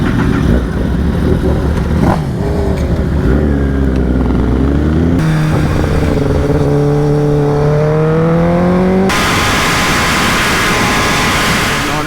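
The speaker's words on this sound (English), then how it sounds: "Ladies and gentlemen, start your engines." Superbike motorcycle engines fire up and rev hard at a group ride, loud and close, with rising and falling engine pitches that overlap and shift abruptly as different bikes take over.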